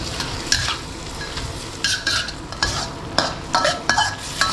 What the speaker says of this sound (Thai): ผัดให้ทุกอย่างเข้ากัน